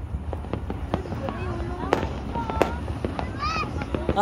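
Fireworks bursting over the city of Puerto on New Year, with scattered crackling pops and booms, some distant and some closer, while people talk and exclaim throughout.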